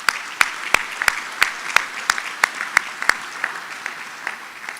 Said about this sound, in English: Give them all a round of applause as well.